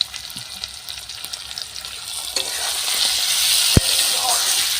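Shelled green peas dropped into hot oil with asafoetida in a wok, with a hissing sizzle that swells and stays loud, plus a sharp metallic clink near the end.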